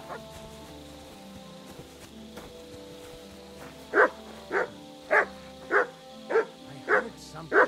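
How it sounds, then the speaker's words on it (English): Mutt the dog in Kingdom Come: Deliverance II barking on command: after a quiet stretch, seven evenly spaced, close barks follow one another at a steady pace. "Sit and bark."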